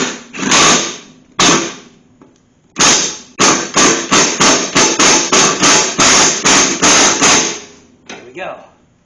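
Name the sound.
impact wrench removing lawn mower blade spindle nut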